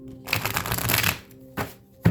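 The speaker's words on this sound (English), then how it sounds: "Let me shuffle these again." A stack of tarot cards is shuffled in a long riffling burst, followed by two shorter flicks of cards close by.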